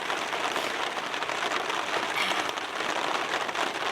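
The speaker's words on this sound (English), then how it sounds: "It feels wrong because it feels wrong to be like lying out in the rain" Heavy rain falls in a forest, a dense, constant hiss of drops pattering on leaves and a bivvy bag up close, with no voices.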